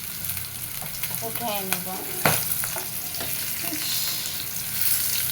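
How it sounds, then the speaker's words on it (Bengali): Fish sizzling steadily in hot oil in a pan, a continuous close frying hiss with a few scraping clicks of a utensil; a voice speaks briefly near the start. "মাছ ভাজি হয়ে গেছে, একটু লাল লাল করেই ভেজে নিচ্ছি"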